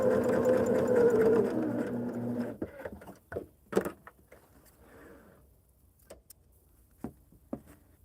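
A sewing machine stitches down a seam line on hexie quilt pieces, its steady close whir running for about two and a half seconds before stopping, followed by light clicks and handling taps.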